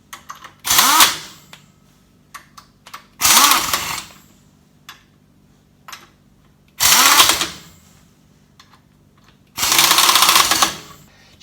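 An air impact gun tightens lug nuts on wheel spacers in four loud bursts of rattling hammering, each lasting about a second, with quieter clicks and handling knocks in between.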